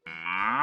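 A buffalo lets out a single short, close moo that rises and swells over under a second, with no other sound around it.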